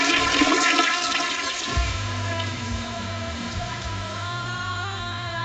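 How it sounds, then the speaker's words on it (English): A toilet flushes loudly up close with a gurgling rush that settles into a steady draining swirl, while faint music plays and a man sings in the distance. "Toilet flushing as music is playing and a man is singing in the distance."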